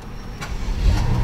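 A 2012 BMW 750i sedan engine starting up: two quick starter bursts followed by the engine catching and rising to a loud low idle, brief and close.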